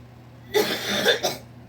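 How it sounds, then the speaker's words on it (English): A short burst of coughing, one harsh cough followed by a quicker second one, from a nearby person against a quiet background. "That's my fiance over there coughing."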